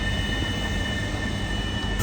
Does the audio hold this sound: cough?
no